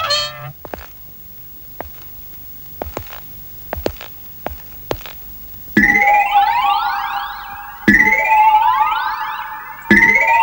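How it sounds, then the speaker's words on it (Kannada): A factory siren wails in long rising and sustained blasts, loud and repeated three times after a stretch of short knocks and faint background sounds, with no speech over it. "ನಿಮ್ ಫ್ಯಾಕ್ಟ್ರಿ ಸೈರನ್ ಅದು"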